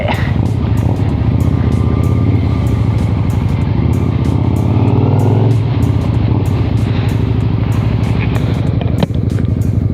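A 1992 Honda Shadow 400 cruiser motorcycle rides along steadily, its engine droning loud and close with a constant low rumble and wind noise throughout.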